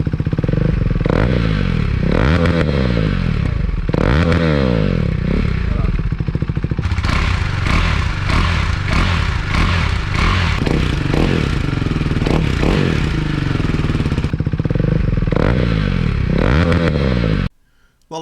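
A KTM 390 Duke single-cylinder motorcycle with a KO Lightning exhaust, baffles removed, revs repeatedly up close, loud sharp blips rising and falling over a rough idle before cutting out near the end.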